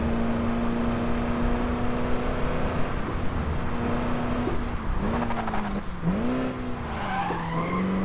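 Car tires squeal loudly and continuously in the racing video game Crash Time 5, a long wavering screech that rises and dips in pitch over a steady engine roar.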